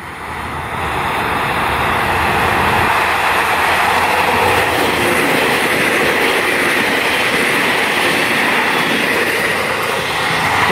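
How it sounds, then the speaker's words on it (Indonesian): An airport train to Yogyakarta International Airport rumbles past nearby on a double-track rail line, a loud continuous roar with faint clacking and wheel noise throughout. "Nah, itu kereta api bandara ya."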